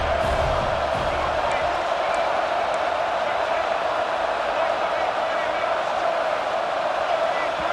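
Stadium crowd noise from the College Football 26 video game fills the red-zone play, a constant, dense roar that stays level throughout, loud enough to force a false start.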